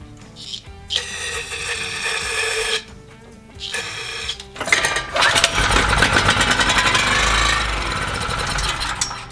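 Portable generator engine catching after cranking, first with short pulls and sputters, then settling into a loud, steady, close running roar.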